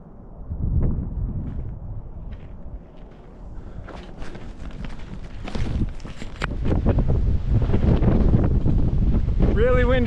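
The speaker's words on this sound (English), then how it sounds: "Really windy up here." Strong wind buffets the microphone in rumbling gusts on an Arizona trail during a 250-mile running race, with rustling and footsteps mixed in, growing louder toward the end.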